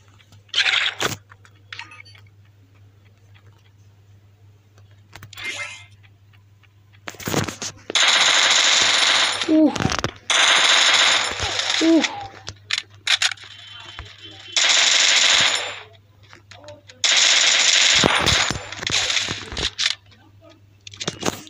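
Bursts of rapid automatic gunfire from twin Vector submachine guns in the Free Fire Max video game, several loud rattling volleys of a second or two each, separated by quiet stretches with occasional clicks.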